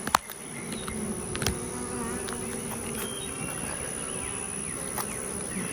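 Honey bees buzz steadily around comb at an open beehive on a hot day, a dense continuous hum close by with occasional louder passes of individual bees and no talking.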